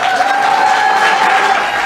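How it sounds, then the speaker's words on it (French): A round of applause at a meeting with the president, with dense clapping from a gathered crowd that stays even and fairly loud for the brief moment. "Salve d'applaudissements,"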